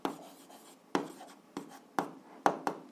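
A pen scratches out answers on paper for a seventh-grade algebra exercise, several distinct short strokes and taps in irregular bursts, close and clear with quiet gaps between.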